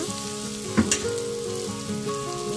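Ivy gourd (dondakaya) frying in a pan, a steady close sizzle with a brief stirring clatter near the start.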